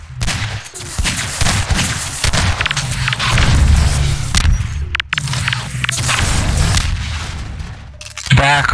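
Rocket explosions and rapid weapon fire in a Half-Life 2 Deathmatch match, loud and dense, with blasts overlapping gunfire throughout and players calling out over the action.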